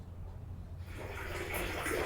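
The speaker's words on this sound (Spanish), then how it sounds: "Cae el agua por acá." Rainwater runs from a roof through pipes down to a cistern, a steady watery rush that swells and brightens in its second half.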